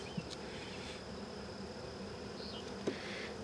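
Honey bees buzz quietly during a hive inspection. The drone is faint and steady, with a few brief louder passes close by, and no talking is heard.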